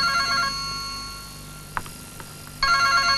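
A telephone ringing in a Tamil film scene, an electronic ring tone that sounds, pauses briefly with faint clicks and thumps, then resumes loudly and steadily.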